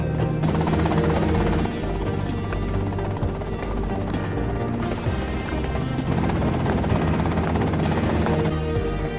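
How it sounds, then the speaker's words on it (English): Helicopter in GTA Vice City, a loud, close, continuous rotor thrum and whine with a few brief swells and dips, playing alone without talk. "that's them in the chopper"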